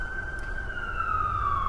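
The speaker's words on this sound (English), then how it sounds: "some police sirens" Police siren in a downtown street, a steady wailing tone under continuous traffic rumble, moderately near and lasting the whole short stretch.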